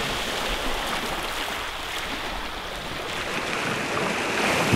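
Surf of the Tyrrhenian Sea rolls onto the Italian Riviera shore, a broad continuous wash of breaking water that swells louder toward the end, close and without voices.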